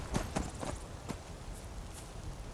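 Slow, clear hoof clip-clops from a horse walking near a city gate in Skyrim, a few separate footfalls that are close at first and then softer, with no voices.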